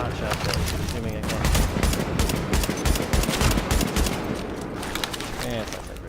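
Gunfire from The Division video game crackles in dense bursts of rapid shots, rattling steadily over several seconds at moderate loudness.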